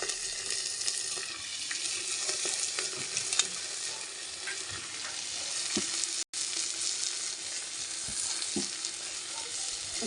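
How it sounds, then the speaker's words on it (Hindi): Lai (mustard greens) roasting in a hot pan, a dense steady sizzle and crackle running the whole time with occasional soft clicks, close and alone with no voices. "लाई को थोड़ी देर भूनेंगे"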